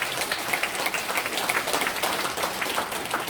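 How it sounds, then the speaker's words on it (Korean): Parishioners at a Catholic memorial Mass in Korea clap to welcome a visiting elderly priest, brisk crowded applause that carries on throughout. "오늘 저희 성당 교우들과 함께 미사 봉헌하기 위해서 오셨는데 환영하는 박수 부탁드립니다"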